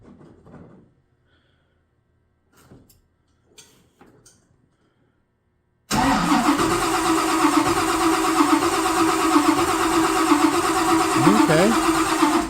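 A 1955 Chevy engine fitted with a blower is cranked and turns over loudly after a few seconds of quiet handling sounds, settling into a dense, continuous mechanical roar.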